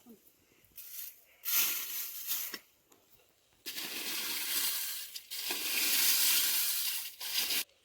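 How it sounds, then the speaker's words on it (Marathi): Oiled hot red chillies stirred and roasted in the open air, giving bursts of dry crackling, scraping and sizzling that come and go in uneven waves, with some louder sustained stretches. "आता आपण नुसतं हलवत राहायचं. भाजून घ्यायचे."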